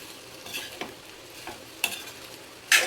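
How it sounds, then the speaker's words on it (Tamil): Cooked rice is stirred into a pan, giving soft, faint scraping and light sizzling with a few sharper clinks of the spoon against the pan. "இந்த சோறை அப்படியே அதில் சேர்த்துடலாம் சேர்த்து நல்லா கிளறி கொடுத்துடலாம்"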